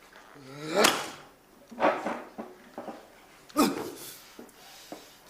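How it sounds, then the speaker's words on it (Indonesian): Newspapers are slammed down hard several times in an Indonesian drama scene, giving sharp, loud slaps with irregular gaps. Quieter knocks and rustles fall between the main hits. "Kaget loh, kamu banting-banting koran."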